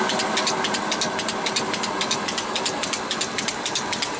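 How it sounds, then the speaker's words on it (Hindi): A 15 hp solar-powered electric motor drives a water pump through a 6-inch pulley and belt, giving a loud, steady mechanical hum with a fast rhythmic knocking and hiss running throughout. "बहुत ही प्यारी मोटर।"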